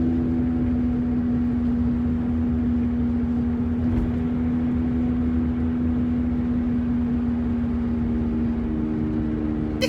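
A Saturn Ion hums along the road, heard from inside the car. A steady engine and road drone holds a constant pitch throughout, even and unbroken, with no voices.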